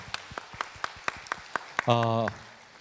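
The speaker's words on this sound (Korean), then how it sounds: "우리 다시 한번 뜨거운 박수로 감사합니다" In a church during a Sunday afternoon service, a few evenly spaced claps ring out close by in a quick steady rhythm, then a voice cuts in.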